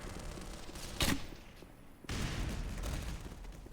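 SMG grenade explosions and gunfire in the video game Black Mesa: a sharp loud blast, a short lull, then a sustained heavy barrage of booming fire that continues to the end.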